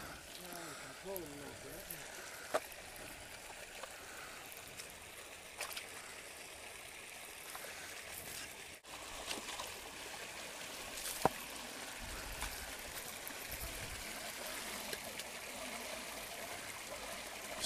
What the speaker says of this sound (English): So the water's draining out of the standpipe here